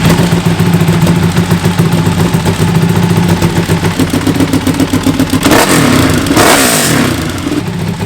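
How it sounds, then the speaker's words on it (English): A Ducati Panigale V4S motorcycle, a Bagnaia World Champion replica, runs its V4 engine close by with a loud, pulsing throttle blips and rising revs, building to a sharper burst near the end. "The V4's got such a nice sound when it's revving, isn't it?"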